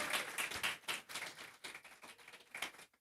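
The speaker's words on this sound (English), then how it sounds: "another round of applause for his amazing presentation" Audience applause after a presentation at an evening cultural creative industry forum: a steady wash of hand claps, fairly faint and distant, sustained for about three seconds without speech.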